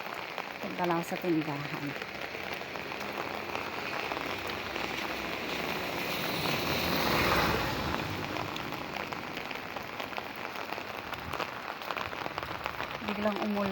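Rain falls suddenly outdoors in the Philippines, a steady hiss of drops on surfaces that swells slightly midway, heard from nearby as a voice speaks briefly under it.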